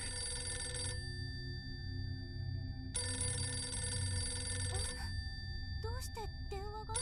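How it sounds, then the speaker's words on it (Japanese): An old telephone rings in a horror video game set in an abandoned hotel, with two long electric bell bursts over a low ambient drone, followed by brief speech. "どうして電話が？"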